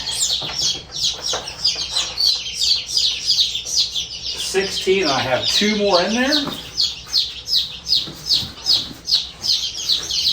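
Newly hatched chicken chicks peep rapidly and continuously inside an incubator, a dense, fairly loud chorus of high chirps up close, while someone speaks over them for a few seconds.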